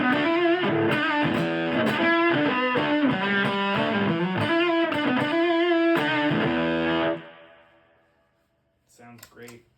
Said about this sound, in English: Next up is a TC Electronics Rusty Fuzz, and this is kind of does the silicon fuzz face thing, and it's a fuzz face.